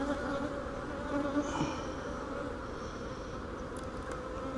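Angry honeybees buzz during a hive inspection, a dense, continuous drone from many insects that stays steady and moderately quiet throughout, with no talking.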